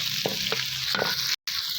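Ginger-garlic paste and browned onions frying and being stirred in a pan, a steady close sizzle with a few soft spoon scrapes and one brief gap.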